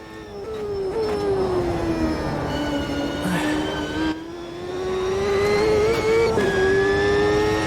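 A Champ Car in Automobilista 2 at Road America howls at high revs with a loud, steady engine note rising and falling through gear changes, continuous and close, no talking.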